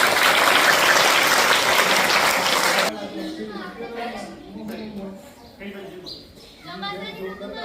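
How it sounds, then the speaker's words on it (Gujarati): Schoolchildren clap together in a loud burst of applause lasting about three seconds, then it stops abruptly and a teacher's voice carries on speaking. "સરસ તાળી પાડવા"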